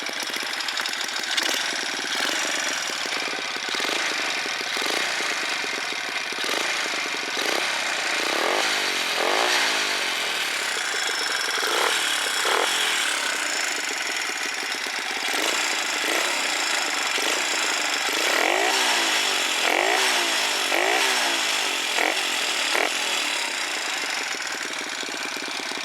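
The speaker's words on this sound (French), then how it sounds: "Donc voilà le son du pot, un joli son je trouve" A Yamaha Chappy moped engine runs with its exhaust popping in a steady rapid putter, close and loud, with occasional revs rising and falling throughout.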